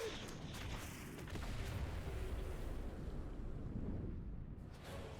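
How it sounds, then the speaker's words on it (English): Deep, rumbling booms and blasts roll continuously, a dense wash of explosive noise with no clear pauses, loud and close throughout. "I love explosions."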